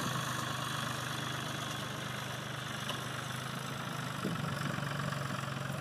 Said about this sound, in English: here's a tractor with a very small sprayer driving by and passing right over the node